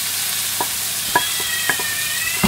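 Onions frying in a pan for a homemade three-meat hachis parmentier: a continuous bright sizzle punctuated by several quick scraping taps of a spoon stirring, close up, with no voices.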